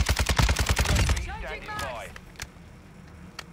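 Rapid automatic gunfire from a Kastov 762 rifle in Call of Duty, a dense burst of close, loud shots lasting about a second, followed by quieter game effects and a few isolated clicks.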